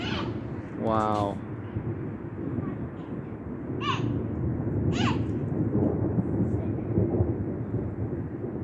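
Low thunder from a lightning storm over Weston rumbles as a broad, steady roll through the clip, with short chirps and brief background voice sounds above it.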